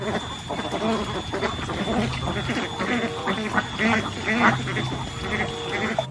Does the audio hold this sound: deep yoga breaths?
no